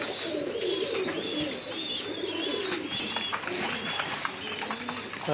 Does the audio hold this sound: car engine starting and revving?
no